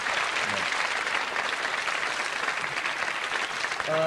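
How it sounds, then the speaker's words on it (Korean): A studio audience on a televised student quiz show applauds the student contestants with sustained, thick applause at an even level, and a voice starts speaking just at the end. "우리 학생 여러분들에게 다시 한번 격려의 박수를 보내주시면 대단히 감사하겠습니다"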